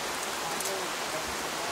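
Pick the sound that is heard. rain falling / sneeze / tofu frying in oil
rain falling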